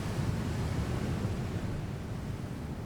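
Southern Ocean waves and wind make a steady, even roar of surf and gusts, with no voices.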